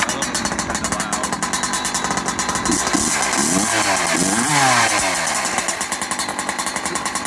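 A Husqvarna 372XP chainsaw with a carbon fiber build and an internal stinger pipe runs close and loud with a raspy two-stroke buzz. It idles, then revs up and down in several surges before settling back to a fast, steady drone.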